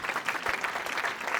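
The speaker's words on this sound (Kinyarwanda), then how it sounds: "Komera Imana amashyi" A church congregation claps for God during a prayer service, a steady dense patter of many hands filling the whole stretch without pause.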